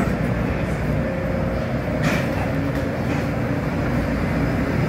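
A St. Louis Metro light rail train runs along with a steady, loud interior rumble and hum, and a brief higher whine and rattle partway through.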